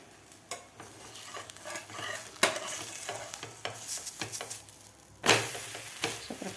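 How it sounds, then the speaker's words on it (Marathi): Cheese thalipith roasting in a pan over a medium gas flame, with a soft continuous sizzle broken by scraping and tapping of a spatula or utensil against the pan, with a sharp clatter near the end. "मिडियम गॅसवर हे थालीपीठ भाजायचं आहे"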